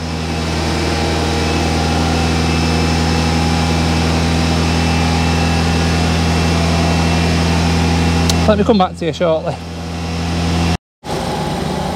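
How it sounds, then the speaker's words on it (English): A BMW 220i M Sport engine idles with a steady low hum, joined briefly by a voice speaking over it near the end. "It seems to be idling okay now."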